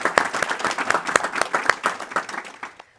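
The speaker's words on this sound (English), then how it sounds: "Please give him a round of applause." Audience applause for a political science professor introduced at a university panel discussion on fake news, a close round of individual claps that thins out and fades by the end.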